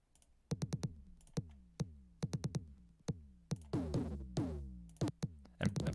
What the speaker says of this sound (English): so that's the kicker, and we can bring in as many as we want of this kicker instrument